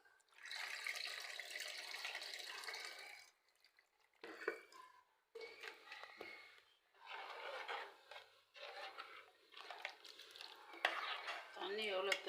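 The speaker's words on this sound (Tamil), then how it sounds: "புளி கரைசல் வச்சுருக்கோம், அந்த தண்ணி ஊற்ற போகிறோம்" Tamarind water poured into a simmering fish curry, giving bursts of sizzling, splashing liquid with short pauses between pours, fairly close and moderately loud.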